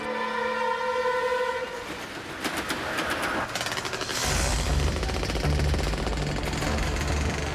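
A train rumbles along steadily, its low mechanical roar building and filling the scene, with some birdlike chirps and tonal sounds near the start.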